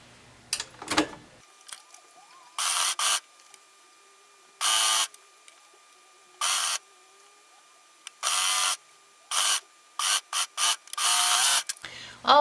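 A sewing machine stitches around the leg seam of Megan Nielsen Acacia underpants in short, loud, bursts of rapid whirring, separated by quiet pauses, close up with no talk.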